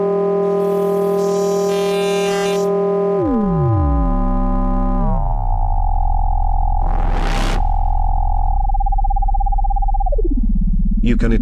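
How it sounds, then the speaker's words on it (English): Sustained electronic oscillator tones glide and crossfade into one another, forming a layered chordal drone with a short noisy burst midway. "You can use an oscillator to crossfade between two oscillator tones."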